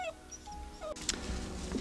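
A young livestock guardian dog on a farm gives thin, high whimpers and whines, brief and close but fairly quiet against a muffled background.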